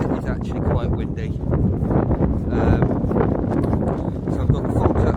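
Strong wind buffets the microphone at a wet, exposed summit camp, a rough low roar of gusts heard under someone talking.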